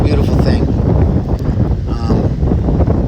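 Wind gusting steadily against a microphone outdoors under open sun, a continuous low rumbling buffet that fills the clip with no pauses.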